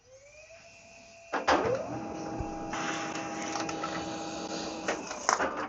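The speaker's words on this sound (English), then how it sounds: "printer will print the" Samsung Xpress M2070W printer printing a connection report: a soft whir, then a sudden mechanical start into a steady, even drone of feeding and printing, with a few clunks near the end.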